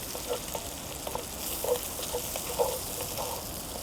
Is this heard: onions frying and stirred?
yes